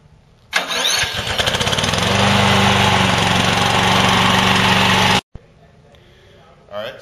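A 2016 Hybrid Goat Robot 22T snowplow's small engine cranks and catches, then runs loudly and steadily for several seconds before cutting off abruptly, with a brief voice afterward.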